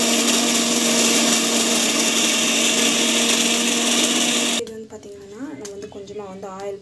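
A mixer grinder roars loudly and steadily as it grinds mint chutney, then cuts off abruptly, after which someone speaks in the quieter room.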